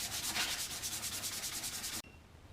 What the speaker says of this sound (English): Now just hand sand the edges.